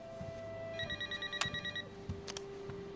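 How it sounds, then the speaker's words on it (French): A telephone rings indoors with a string of rapid electronic bell pulses, moderately close, against a quiet room with a low hum and a few soft knocks. "Téléphone!"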